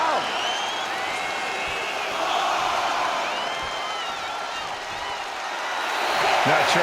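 Arena crowd in the wrestling game WWE 2K25 roaring in a steady wash of cheers and whoops, loud and continuous, with a commentator's voice talking over it.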